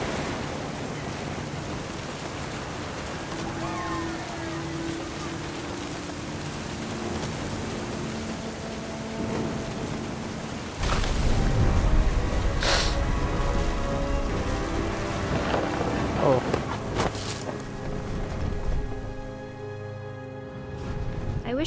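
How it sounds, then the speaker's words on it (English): Storm in the video game What Remains of Edith Finch: steady rain hisses throughout, then a loud close thunder crash breaks in partway and rumbles on under the rain. "The thunder sounded much too close and full of angry power."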